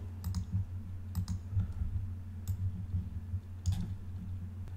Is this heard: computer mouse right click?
yes